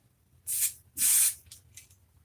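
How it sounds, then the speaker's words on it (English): Two short bursts from a can of spray primer, the second longer, followed by a couple of faint hissy puffs over a low background hum. "Give the can a little test spray."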